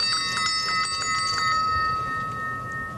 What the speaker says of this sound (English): you'll hear the difference between the male bell and the female. But when they ring together simultaneously, there's a harmony there